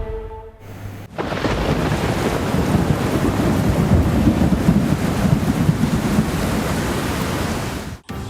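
Heavy rain and a thunderstorm during the Navsari flood: a loud, dense roar of downpour with rumbling thunder and wind buffeting, continuous for several seconds before an abrupt cut near the end.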